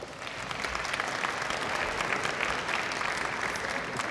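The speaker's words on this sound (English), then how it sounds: "thank your family and your teachers, advisors, coaches, and mentors who helped you achieve this moment with a round of applause" A graduation audience at a school commencement applauds, dense sustained clapping from a large crowd at steady volume for the whole stretch.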